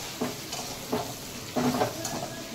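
Capsicum and onion fry in a pan with a steady sizzle, broken up by several scraping stirs spaced about half a second apart, close and moderately loud, with no voices.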